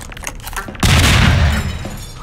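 A grenade blast in the video game Half-Life 2: Episode One, a single loud, close explosion that booms in after a stretch of quieter game noise and then rumbles and decays over about a second.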